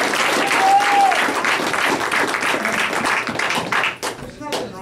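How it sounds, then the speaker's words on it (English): Applause from the audience at a pool exhibition featuring two players, a dense wash of clapping that carries on for several seconds before thinning out, with voices talking over it. "Round of applause for me, please."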